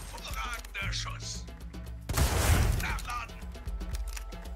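A burst of rifle gunfire cracks out midway in Resident Evil 4 Remake, with clicking, mechanical game effects and electronic sounds around it.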